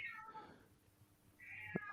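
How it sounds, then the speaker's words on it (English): A cat meows a couple of times fairly close by, breaking into a quiet indoor room during a comedy panel show, with faint voices in the background. "we're being heckled by a cat at the moment"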